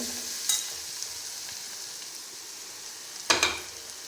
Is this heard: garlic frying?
yes